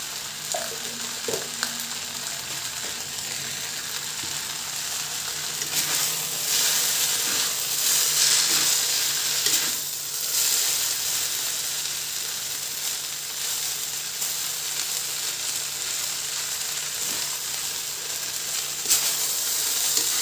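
Noodles sizzle steadily in a hot pan as they are stirred and fried shallots are tossed in, a continuous close hiss with occasional scraping and stirring knocks and no talking.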